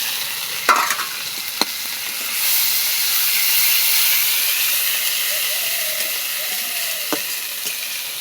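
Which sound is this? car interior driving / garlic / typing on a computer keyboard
garlic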